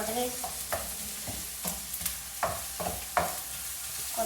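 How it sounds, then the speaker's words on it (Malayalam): Onions sautéing in a pan for chicken curry, with a continuous sizzle broken by repeated scraping stirs of a spoon against the pan, close and fairly loud, with no talking. "ഇനി നമ്മൾ നല്ലോണം ഇത് വഴറ്റണം."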